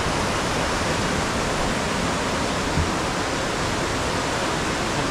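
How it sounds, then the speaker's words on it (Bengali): A waterfall stream rushes beneath a suspension bridge on a trek in Meghalaya, a loud, unbroken roar of flowing water that fills the whole stretch without variation. "নিচ দিয়ে কিন্তু ব্যাপক ঝর্ণা বয়ে যাচ্ছে"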